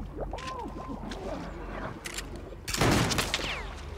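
Gunfire aimed at the player in a video game bursts out loudly about two-thirds of the way through, following a stretch of voices and game sounds.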